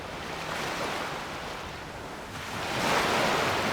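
Waves breaking against the shore in modded Skyrim Special Edition, a steady wash of surf that swells louder near the end, soft and fairly distant with no talk over it.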